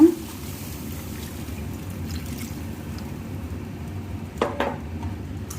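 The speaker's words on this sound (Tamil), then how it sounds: "இப்போது இங்கே வதக்கி கரைச்சி வச்சுருந்த இந்த புளி தண்ணியை இதில் சேர்த்துக்கலாங்க" Tamarind water poured into a sautéed onion-tomato mixture for vatha kuzhambu, a steady liquid pour over a low background hum, with a brief louder splash near the end.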